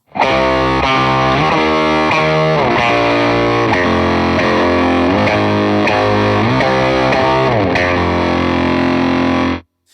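Electric guitar played through a Meris Enzo X pedal preset with an added fat low-end synth layer under big root notes, a sustained distorted chordal progression ringing continuously for about ten seconds, then stopping.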